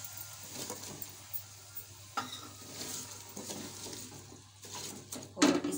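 Vegetables and chilies sizzle in a hot pan as a spoon stirs them, with soft scraping and a steady frying hiss, then a louder clatter of the utensil near the end.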